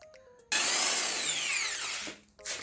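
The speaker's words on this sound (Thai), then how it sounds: "เราเจาะแบบนี้ ให้ครบหมดทุกอันที่เราวงเป็นทรงกลมไว้นะครับ" Power drill boring a hole into pallet wood: a sudden start into a loud whining bite that holds steady for about a second and a half, then winds down, with a quick restart at the end.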